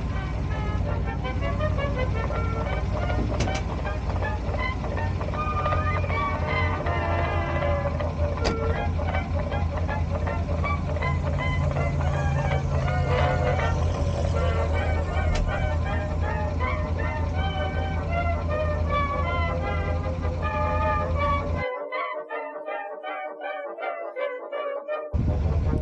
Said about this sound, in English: The float truck then backs up the ramp, pulling the floatplane out of the water.